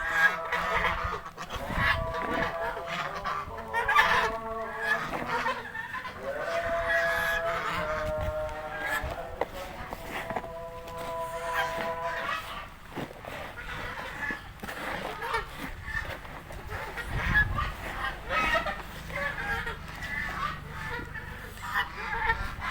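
Turkeys in a pen feeding on fermented water hyacinth feed give repeated honking gobbles and calls amid shuffling and pecking noise, moderately close, with a quieter stretch midway.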